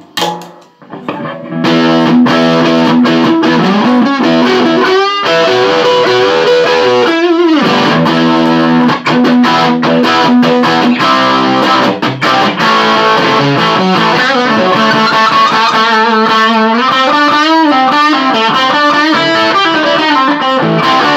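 Heavily distorted electric guitar through an AXL T-15 valve hybrid combo amp with gain set high plays sustained chords and bending lead notes, thick and loud with saturated overdrive, after a few quiet opening plucks.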